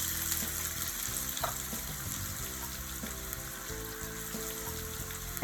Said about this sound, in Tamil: சோம்பு வெடித்ததும் ஒரே ஒரு பெரிய வெங்காயத்தை பொடியாக நறுக்கி போட்டுக்கலாம்